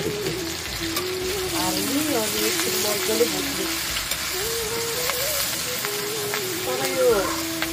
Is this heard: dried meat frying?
yes